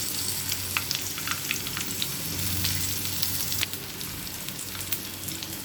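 Onion pieces and chopped beans fry steadily in a pan for veg fried rice. A dense crackling sizzle continues throughout, with a brief drop in loudness near the end.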